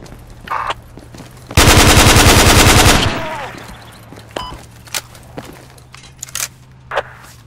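A rooftop-mounted machine gun in the military shooter game Project Reality fires one loud, rapid sustained burst of about a second and a half, followed by scattered quieter clicks and distant shots.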